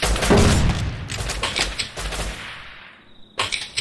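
In the survival game Rust, a rapid burst of automatic gunfire rattles out loud and sharp, then fades and cuts off before a final short volley.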